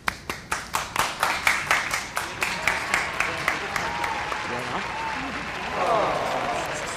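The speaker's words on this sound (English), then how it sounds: "Can we get claps?" An audience claps in a rhythmic unison beat that slows and then loosens into scattered applause, with some cheering and talk rising near the end.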